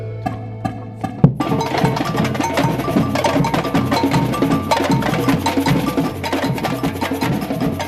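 Samba band from Utrecht playing dense, loud percussion with a steady cowbell pattern cutting through drums, after a few sparse opening hits.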